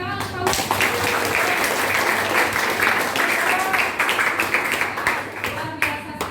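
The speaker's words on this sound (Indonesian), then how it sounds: "Ya, baik, tepuk tangan untuk kamu." Classmates in a school classroom clap together for a student's answer, a dense, steady round of applause lasting the whole stretch and fading slightly at the end.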